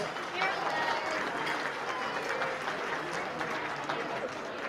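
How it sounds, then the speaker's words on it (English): Audience at a red-themed party breaks into steady applause, dense clapping that holds evenly for several seconds with crowd noise mixed in. "Come on, pat yourselves on the back, round of applause."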